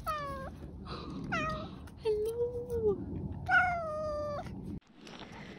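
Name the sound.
cat meowing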